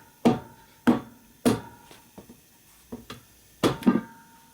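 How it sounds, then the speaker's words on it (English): Heavy hammer blows strike a metal part of a 2001 Indian Scout motorcycle engine being rebuilt, in an uneven rhythm, several loud hits separated by lighter taps, close by. "Beat it on with a big hammer."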